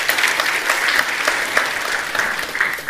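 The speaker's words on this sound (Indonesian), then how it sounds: "Beri tepuk tangan." Church congregation at a Sunday worship service bursts into sustained applause, dense steady clapping from many hands filling the hall evenly for the whole stretch without any talk over it.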